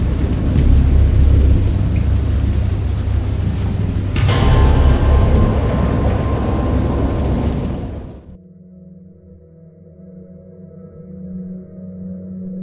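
Heavy rain pours beneath rolling thunder in the video game Dagon, with a louder crack partway through; the storm then drops away to a quiet, low droning hum.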